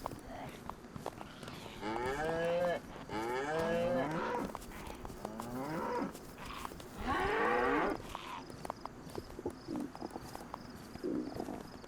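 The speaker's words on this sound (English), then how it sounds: "Damn zombies chasing cows." Several long, drawn-out cow moos in the video game DayZ, with rising and falling pitch, spaced a few seconds apart, over soft background noise and light thumping steps.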